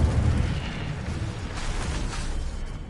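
Incendio fire spell cast in the Hogwarts Legacy video game, a loud sustained whooshing burst of flame with a rumbling low roar, holding steady for about three seconds with no talk over it.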